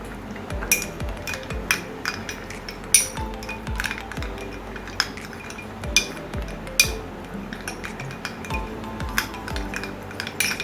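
A metal spoon clinks repeatedly against the sides of a cup while mustard powder is stirred into mango juice, sharp bright taps in an irregular rhythm, close by with no voices.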